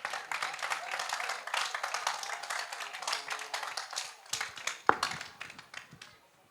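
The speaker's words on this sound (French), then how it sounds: "de les applaudir" Audience clapping for two choirs at a Christian singing competition quarter-final, a moderate, somewhat uneven patter of hands with individual claps standing out, fading gradually toward the close.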